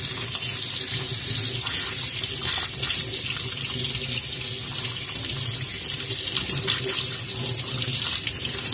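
A fitness tracker, the iWown fit i6 HR, is held under a running tap, giving a steady, close hiss and splash of water that continues without pause throughout.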